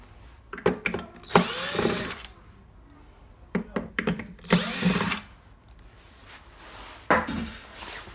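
A handheld power drill backs screws out of an induction cooker's casing, with several short, sharp whirring bursts close by, separated by brief pauses and small knocks of handling.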